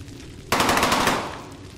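A sudden close burst of rapid machine gun fire in the World War II shooter Brothers in Arms, loud rattling shots that trail off after about a second into quieter background.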